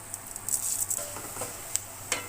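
Chopped onion, garlic, bay leaf, a few pieces of dried chili and a pinch of five-spice (panch phoron) crackle and sizzle in hot oil, with scattered sharp pops over a soft steady fry.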